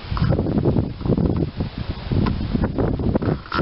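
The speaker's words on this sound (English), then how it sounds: "It's windy out here in" Strong gusty wind buffets the microphone outdoors in Sutter, a steady broadband roar rising and falling in loud waves throughout, with no voices.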